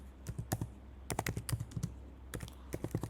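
Rapid typing on a computer keyboard during a Swift programming session, with bursts of close, crisp key clicks separated by short pauses, no voices.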